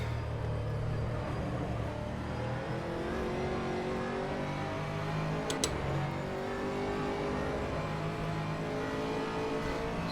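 Race car lapping the Nurburgring in the rFactor 2 racing simulator, its engine droning steadily and loud throughout with shifting pitch as it accelerates, no talk over it.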